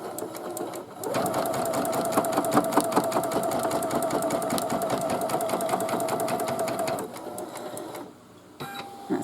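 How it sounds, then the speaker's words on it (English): Embroidery machine stitching fabric held in its hoop for a hooded towel, a steady loud mechanical whir with rapid rhythmic needle ticking for about seven seconds, then stopping, with brief quieter machine sounds after. "Put it back to the hoop, and then it's just going to stitch it in place."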